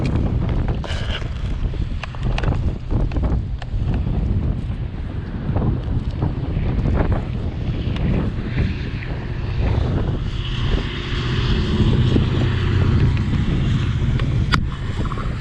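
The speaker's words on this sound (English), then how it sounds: "Very, very windy today." Strong wind buffets the microphone beside a canal on a wet morning, a continuous loud rumbling roar with gusty swells throughout and no talking.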